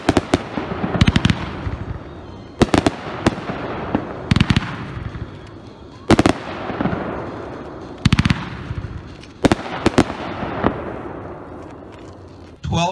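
A Sky Patriot consumer firework from 76 Pro Line, a shot of red, white and blue peonies, fires a rapid series of loud, sharp bursts with crackling tails at irregular intervals over about thirteen seconds, close and punchy.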